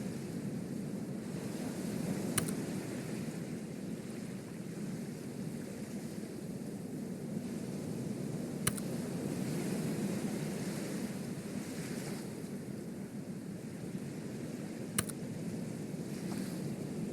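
Calm ocean waves wash steadily around a large sinking ship, a soft continuous rush with a few faint sharp clicks spaced far apart, no voices.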